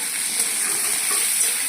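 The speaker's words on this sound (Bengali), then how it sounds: "এবার আমি পোস্ত আলুটা ভেজে নেবো।" Poppy-seed potatoes fry in a pan of oil with a dense, steady sizzle and soft stirring scrapes, close and fairly loud, with no voices.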